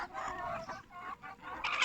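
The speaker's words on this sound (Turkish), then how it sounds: "Tavuklar şu anda yiyor." Several chickens eating barley pulp cluck and murmur close by in a steady busy stream, with a few sharper calls near the end.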